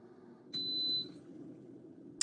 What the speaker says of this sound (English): If you heard that it beeped, and then it clicked, and then now it's turned itself off.